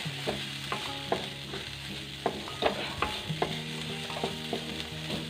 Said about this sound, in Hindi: इसको थोड़ा सा चला लूँगी मैं ऐसे